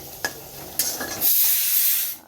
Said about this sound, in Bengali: এখানে তুলতুলের বাবার জন্য একটু আলু ভাজা হচ্ছে